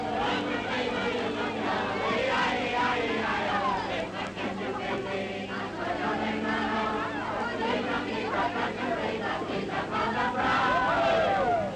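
Huge celebrating crowd outside the palace on VE Day, the end of the 1939-45 war, cheering as the King and Queen appear; a steady roar of voices and shouts fills the whole stretch.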